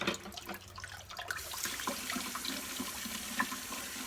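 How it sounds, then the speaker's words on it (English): Water draining out of a sink after washing a human hair wig, a soft gurgling, trickling flow with small drips, close and quiet, steady after a brief start. "So we're going to let the water out."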